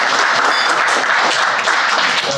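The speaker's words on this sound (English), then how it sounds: "Give them a round of applause." Audience applause filling a room at an annual veterans recognition breakfast, a steady, dense wash of many hands clapping close by, sustained throughout with no voices on top.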